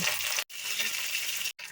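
Mustard-type tempering seeds, dried red chilies and curry leaves crackle and sizzle in hot ghee, a dense steady frying hiss broken by two brief silences.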